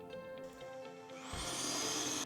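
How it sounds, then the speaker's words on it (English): A power drill with a 10mm bit boring into a locking wheel nut, starting partway through as a loud, steady high-pitched whine that rises and holds over a low mechanical hum. "Here I've drilled a decent hole with the 5mm drill bit, and now we're going to move up to the final 10mm."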